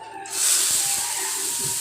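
Nigella seeds (kalo jeere) hitting hot oil in a pan for tempering dal, giving a sudden loud steady hiss that starts after a brief quiet moment and carries on unbroken, with faint clicks and pops underneath.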